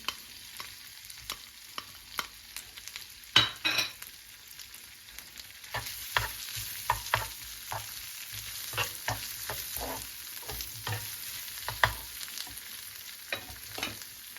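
Mashed potatoes being stirred into a hot pan with spices, with a steady low sizzle and frequent scraping clicks of a utensil against the pan, close up, no voices.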